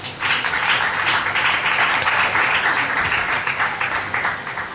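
A church congregation applauds God at a service, sustained dense clapping that fills the space loudly and evenly for several seconds without a break, with faint voices mixed in.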